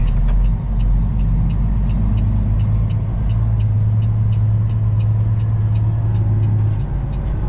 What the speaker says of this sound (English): There's a B&B transport truck